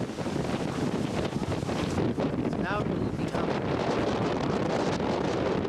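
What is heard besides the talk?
strong wind on a mountain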